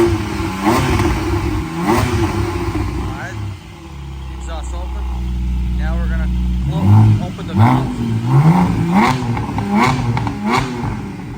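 A 2020 Porsche Cayman GT4 with remote exhaust valves open blips its engine in quick revs, holds a steady drone, then fires off more sharp rising and falling revs, loud and close.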